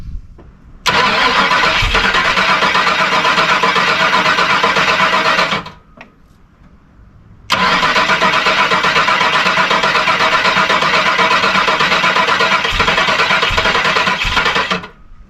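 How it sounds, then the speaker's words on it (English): A Foxbody Mustang GT convertible engine cranks steadily and loudly without catching, two long bursts of starter whirring separated by a short pause. "Still won't start. This engine is a challenge."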